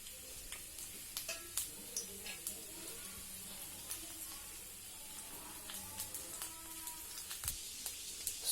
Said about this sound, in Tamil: சோம்பு சீரகம் பொரிஞ்சிருச்சு